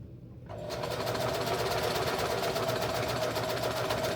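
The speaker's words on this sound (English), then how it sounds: "let's get into sewing" A sewing machine stitches clothing pieces being reworked, starting after a brief quiet moment and then running steadily and loudly at an even, continuous hum until the end.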